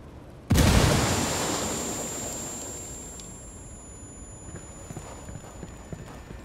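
A frag grenade goes off in the shooter game Ghost Recon Wildlands, a single loud, close blast that hits abruptly and then rolls into a long, slowly fading rumble.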